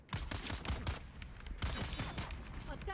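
Rapid bursts of gunfire in the Dune: Awakening video game, sharp repeated shots in quick clusters with loud game effects throughout.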